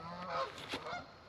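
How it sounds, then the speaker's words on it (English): Geese honk near a farm beside a lake, two or three brief calls at a moderate distance against a quiet background. "Geese."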